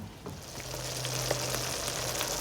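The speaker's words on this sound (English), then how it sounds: "Sauce is coming right along here, boiling nicely." Thick spaghetti sauce boiling in a pan, a soft continuous bubbling and sizzling with small pops, steady and close, no talking.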